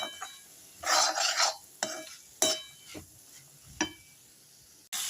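Masala sautéing in a pan, with a few sparse bursts of sizzle mixed with scrapes and light clinks of a utensil against the pan, close by and quiet, and no speech.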